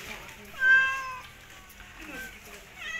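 A cat meows loudly and close, a drawn-out rising and falling call, then gives fainter shorter mews while someone speaks over it.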